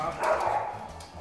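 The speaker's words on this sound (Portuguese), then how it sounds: "os cachorros latindo por causa da pizza" A short burst of dog barking, a couple of quick woofs, moderately close, over faint background noise.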